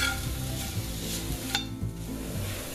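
Country fried potatoes sizzling in a pan while being stirred, a continuous close sizzle with scraping utensil strokes and one brighter clink midway.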